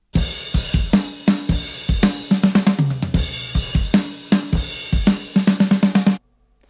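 A drum kit plays a chorus groove with crashes, broken by a rapid sextuplet fill of quick tom and snare strokes. The rhythm is loud and close, then stops abruptly into silence.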